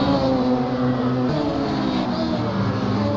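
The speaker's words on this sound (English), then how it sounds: "and Van Dorn sliding the car over the curb." A Radical race car engine roars steadily close by as it slides over a curb at the Jamaican Grand Prix circuit race, with a shift in pitch partway through and faint crowd noise beneath.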